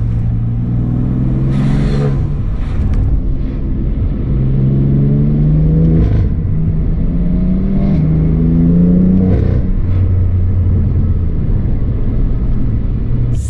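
A BMW M4 engine revving, a deep, loud rumble that rises and falls through several throttle blips and sustained revs over a steady idle, heard close up with no talking.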